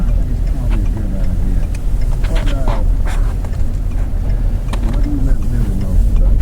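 A car drives and turns a corner around the former RCAF Station Gimli, with a continuous low engine and road rumble heard from inside the vehicle while someone talks over it.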